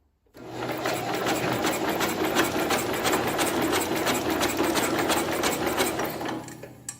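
A 1970 International Cub Cadet 127 engine cranks over with its spark plug removed, a fast, steady mechanical whirring and clatter from the starter that runs loud and close for about six seconds before stopping.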